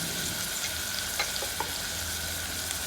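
Onions frying with salt in a pan for a brinjal tomato curry give a steady close sizzle, with a few soft scraping stirs over the hiss and no talking.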